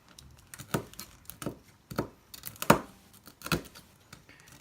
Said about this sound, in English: Now, let's cut up the bacon.